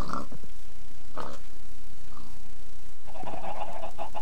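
Chickens in the Minecraft video game, clucking in short separate bursts close by, with a denser run of game fowl calls near the end; no one talks over them.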